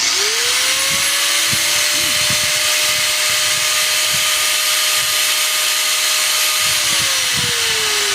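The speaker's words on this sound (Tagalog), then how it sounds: "Electric fan, tapos may grinder." An angle grinder's motor spins up to a steady high whine and runs for several seconds before winding down, close and loud.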